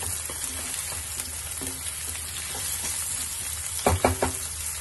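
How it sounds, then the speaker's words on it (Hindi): Potatoes and fenugreek leaves frying in a pan for garlicky methi aloo, a constant close sizzle with occasional spatula stirs and a cluster of sharper scrapes near the end. "बीच बीच में हम आलू को चलाते रहेंगे।"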